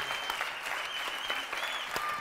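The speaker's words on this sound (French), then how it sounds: "on vous applaudit comme il se doit" An audience claps enthusiastically after a live concert in a continuous, dense wave of applause, with a faint high electronic tone humming underneath.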